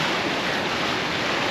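Ocean surf washing onto the shore along the coast of Penang Island, Malaysia, a steady broadband roar of breaking waves with wind noise mixed in, loud and continuous throughout with no pauses.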